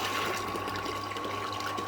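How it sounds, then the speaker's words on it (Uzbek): Water runs from a tap just opened on a pump-fed supply, a close, steady hiss and splash with a constant tonal whine from the pump beneath it. "Suv tushyapti."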